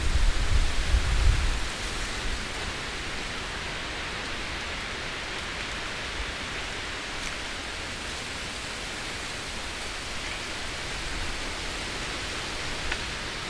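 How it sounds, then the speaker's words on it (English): Heavy wind blows outdoors at a campground as a steady, broad roaring rush with a louder low buffet at the start, continuous and close. "the wind is like making it hard to hear anything."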